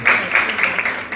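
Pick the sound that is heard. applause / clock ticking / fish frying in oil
applause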